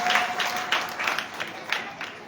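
A crowd claps steadily at a missionary singer's event honoring Guru Ravidass, the applause moderately loud and close, with a faint voice briefly present.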